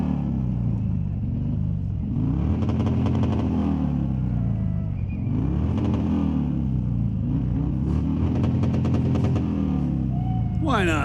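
At a raceway, a race vehicle's engine revs hard and repeatedly, surging in pitch roughly every few seconds up to the rev limiter with a loud, rumbling continuous roar heard close up.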